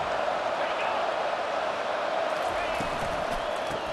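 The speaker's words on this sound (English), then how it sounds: "Listen to the crowd energy here in the early going." Steady stadium crowd roar from a college football game in EA Sports College Football 25, a dense continuous wash of cheering that fills the whole stretch without breaks, with no speech over it.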